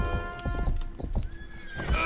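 Horse in the video game Rustler, hooves clip-clopping in a quick rhythm followed by a loud whinny near the end, close and prominent with game music tones behind.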